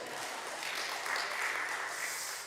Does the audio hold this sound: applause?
yes